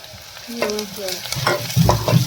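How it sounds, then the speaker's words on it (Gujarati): Close sizzling of onions and mustard seeds frying in oil, with scraping stirs and clattering spoon knocks against the pan. "તેલમાં ડુંગળી ચડી જાય ને રાઈ પછી હલાવ હલાવ કરતા"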